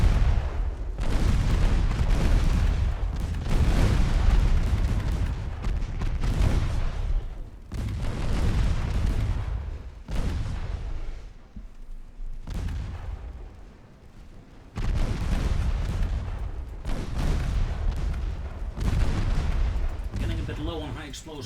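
Explosive rounds from 3-inch and 1.1-inch naval guns fire in a battleship combat game, heavy booming salvos and rapid gunfire rolling in repeated bursts with short lulls between volleys.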